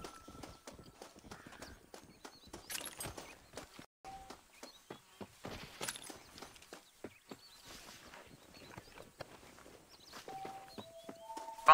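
A horse's hooves clip-clop in a rhythmic walk in the Red Dead Redemption video game, fairly quiet, with faint ambient game sounds and a few brief tones.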